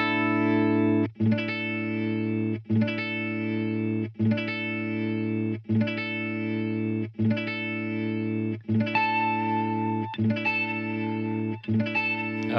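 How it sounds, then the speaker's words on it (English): A guitar through a Digitech RP1 stereo preset with a layered echo delay, sustained chord tones stacking into dense repeats that pulse at a steady rhythm, like a looper, loud and continuous. "Layered echoes."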